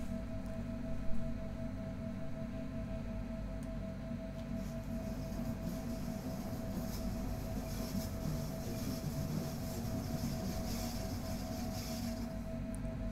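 A train runs on the snowy Arosa mountain line in Train Simulator 2017, a steady low rumble of wheels and motor with a faint constant tone on top, moderately quiet and unbroken throughout.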